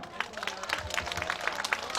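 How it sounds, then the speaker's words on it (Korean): Crowd applause at a seaside song festival's awards ceremony for the 2019 grand prize, a dense steady patter of many hands clapping with scattered cheers, fairly close and continuous throughout. "박수 한번 해주세요."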